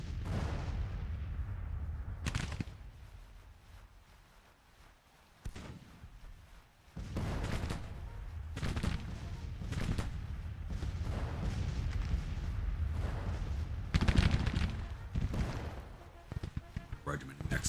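Artillery guns fire in a strategy war game, heavy booming blasts arriving repeatedly across the stretch, each with a long rumbling tail, with voices talking through much of it.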